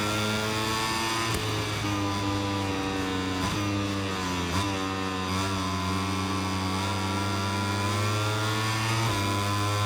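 A motorcycle engine in the racing game MotoGP 25 holds a loud, continuous high-revving drone that rises and dips slightly with throttle changes, with a couple of brief shifts in pitch and no talking over it.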